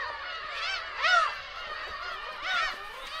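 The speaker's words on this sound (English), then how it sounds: "Here's some more seagulls." Seagulls call along a Korean seaside, with two loud, close, wavering cries standing out and fainter calls running throughout.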